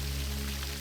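Shower left running: a steady, dense hiss of falling water, fairly faint and unbroken through the short stretch, with no voices over it.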